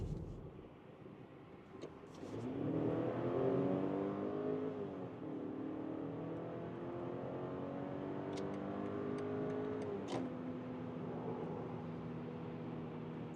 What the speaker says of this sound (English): So that's the first acceleration